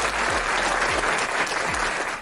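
A round of applause fills the space as a steady, dense wash of clapping, loud and continuous, with faint low thumps underneath.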